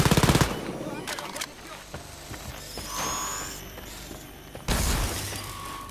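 Submachine gun fire in the shooter game Wolfenstein Youngblood, with a loud rapid burst at the start, scattered shorter bursts and mechanical clatter, then another heavy burst near the end.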